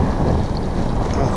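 A small fishing boat motor runs out at sea while longline fishing for bass, making a dense, steady rumble mixed with wind and water rush, loud and continuous, with no talking.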